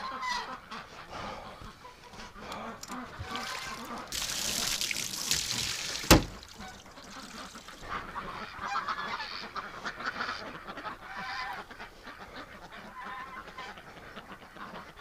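Barnyard ducks and other farm fowl honking and quacking in cold winter weather, a loose scatter of calls near and far, with a burst of flapping or splashing and one sharp knock midway.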